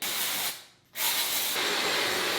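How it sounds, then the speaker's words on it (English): Dry shampoo hisses from an aerosol can into hair roots in two close, loud bursts split by a brief pause, the second spray running long and steady to the end. "So I'm gonna put a little bit of dry shampoo into the roots of my hair and then blow dry it"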